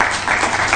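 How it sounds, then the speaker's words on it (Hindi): Audience applause at a ministry ceremony where a Chief Minister hands appointment letters to dentists and medical officers, a brief dense burst of many hands clapping, even and moderately loud. "तालियां आपकी तरफ से होती रहे।"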